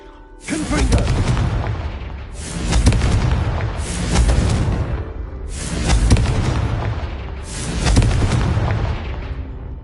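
A Confringo fire spell in Hogwarts Legacy bursts four times with deep, loud booming blasts, each swelling and fading over about two seconds, close and dominant over faint game ambience.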